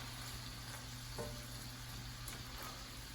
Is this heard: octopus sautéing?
yes